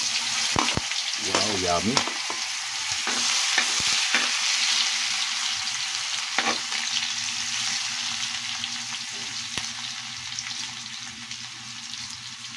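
Garlic sizzles steadily in hot oil with a continuous bright frying hiss and occasional stirring clinks, while a voice briefly speaks over it.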